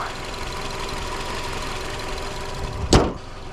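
A 2005 Honda CR-V EX with a 2.4-liter VTEC engine idling steadily nearby, a low even hum interrupted near the end by one sharp thump.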